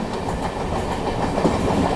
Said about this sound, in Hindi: ये देखो बगल से लोकल ट्रेन क्रॉस हो रही है।